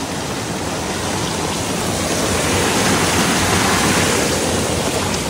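Rushing water of a rocky stream swollen after heavy rain in the Konkan countryside, a steady, loud, broadband roar like a small waterfall, continuous and close throughout with no voices.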